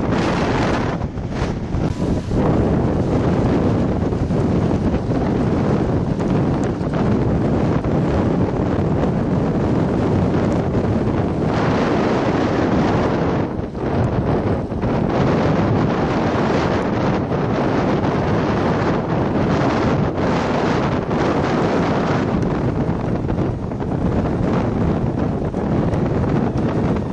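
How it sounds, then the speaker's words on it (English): Strong storm wind during a northern Illinois storm chase roars loud and unbroken into the microphone for the whole stretch, a dense, buffeting rush with gusty swells and no talk. "wind's starting to pick up again."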